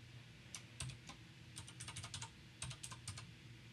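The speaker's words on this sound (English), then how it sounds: "So I'm just going to type" Password keys tapped on a computer keyboard, a quick run of crisp clicks in short bursts with brief pauses, close and fairly quiet, no voices.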